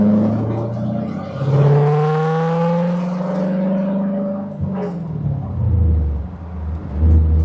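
A C3 Corvette drives along with a deep, rumbling V8 engine close by, pitch climbing as it accelerates, then a gear change, dropping and settling again into a steady rumble.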